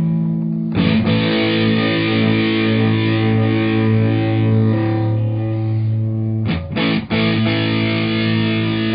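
Overdriven electric guitar chords ring out loud and sustained, with a couple of quick chord changes near the end; no talking.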